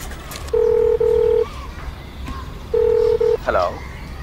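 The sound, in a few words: telephone dialing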